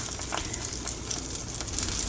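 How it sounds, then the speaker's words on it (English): Salmon fillet skin-side down frying over medium heat in a pan, a steady close hiss and crackle of sizzling fat running evenly through the whole short stretch without talk. "get that skin nice and crispy"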